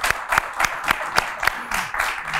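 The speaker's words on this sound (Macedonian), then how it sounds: "а еден аплауз за скромност на нашот" A small studio audience on a talk show claps in a brief, even burst of rhythmic hand claps, close and moderately loud, lasting about two seconds.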